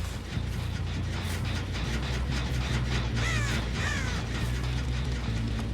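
Crow caws ring out in Dead by Daylight over steady low game ambience, a cluster of harsh calls around the middle of the clip, moderately loud.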